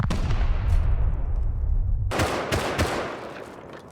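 Gunfire during a raid in the survival game Rust, with a steady rumble that gives way to a burst of sharp, loud shots in the later half, with no talking.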